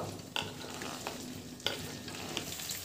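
Okra frying in a small amount of oil in a pan, a steady close sizzle with a few sharp clinks of a spoon stirring against the pan.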